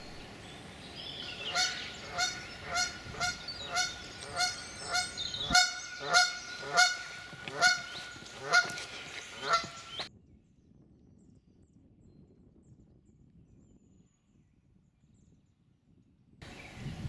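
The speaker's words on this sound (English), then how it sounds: "a much larger lake within the estate was a temporary home for some Canada geese" Canada geese on an estate lake honk repeatedly in a steady rhythm, loud and close, for about ten seconds before fading to quiet outdoor ambience.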